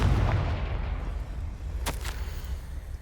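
A Confringo fire spell from Hogwarts Legacy bursts with a deep rumbling boom that rolls and fades, then a couple of sharp crackling blasts follow near the end, loud and close.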